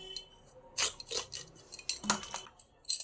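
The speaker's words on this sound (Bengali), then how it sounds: "আলুগুলো কেটে নিই" Knife work on washed new potatoes in a home kitchen, a few irregular clinks and scrapes of blade and utensils against a dish, close and moderately loud with quiet gaps between.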